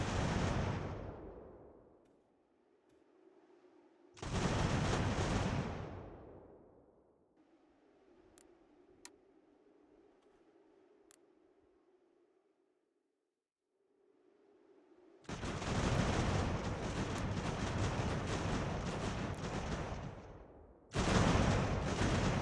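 Mortar and artillery fire in the video game Ultimate General: American Revolution: loud booming barrages in heavy bursts, separated by quieter stretches of low rumble and scattered sharp cracks.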